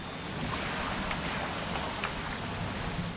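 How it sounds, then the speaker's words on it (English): Steady rain falls in the video game What Remains of Edith Finch, a dense, even hiss of drops on surfaces with scattered sharper patters and no voices. "It's gonna rain the whole weekend, isn't it?"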